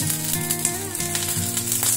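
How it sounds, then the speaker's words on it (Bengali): Okra frying in a pan just after spice tempering: a steady, close, loud sizzle that runs unbroken over a faint tonal background. "ফোড়ন হয়ে যাওয়ার পরে আমি ভেন্ডিটা দিয়ে দিয়েছি এবার এটা একটু ভাজা ভাজা হবে"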